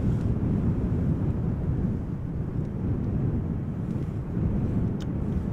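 A KLM Embraer 175 jet departing Amsterdam Schiphol Airport gives a steady, loud, low rumbling roar that holds throughout, sounding washed and blustery with no talk over it.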